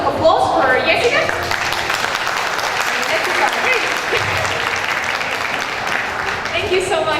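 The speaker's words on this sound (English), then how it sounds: "Let's please give a warm welcome of applause for Jessica" An audience at an international English-teaching seminar gives sustained, fairly loud applause to welcome a speaker named Jessica, many hands clapping steadily. Brief speech is heard at the start and a voice returns near the end.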